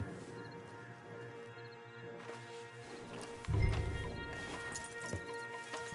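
Horse hooves clip-clopping in the Red Dead Redemption 2 video game, faint rhythmic steps under a game soundtrack, with a louder low thump partway through.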